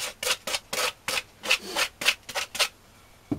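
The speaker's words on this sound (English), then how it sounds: "take off those bits of sawdust splinters from the saw cut" Sandpaper rubbed back and forth across the saw cut in a piece of wood to clear sawdust splinters, giving about eight quick, close scratchy strokes in a steady rhythm.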